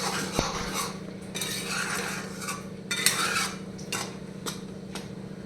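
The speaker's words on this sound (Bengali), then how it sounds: "এমনি নাড়তে থাকবো, একটু ফেনাটা কম হয়ে যাবে" Homemade ghee from milk cream being stirred in a pan: a metal spoon scrapes and clinks steadily against the pan over a faint bubbling background, close up with no talking.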